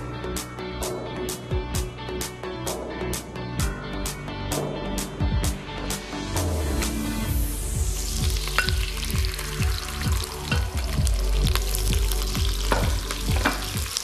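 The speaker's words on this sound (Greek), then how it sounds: "Ξεκινάμε το μαγείρεμα λοιπόν με κρεμμύδια κομμένα σε πολύ λεπτές φέτες." Thinly sliced onions fry on a stovetop for goulash, a steady sizzle with a quick run of rhythmic utensil clicks early on, followed by irregular stirring scrapes and knocks close by.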